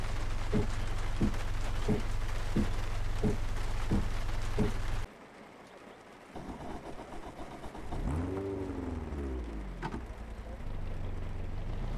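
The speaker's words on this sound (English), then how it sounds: "a windscreen wiper and just driving in the rain as well" Rain in the iRacing sim-racing game, heard from a car: steady rain hiss with a windscreen wiper's regular thumps and a low engine hum, then a quieter stretch where the engine note rises and falls as the car drives on.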